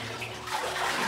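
Water sloshes and splashes as someone wades out of a flooded tunnel in an abandoned gold mine, a brief close burst of churning water that swells toward the end.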